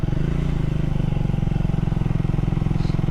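An Apache motorcycle rides along a small ghat road, its engine thrumming in a steady, even pulse, loud and close with a faint voice underneath.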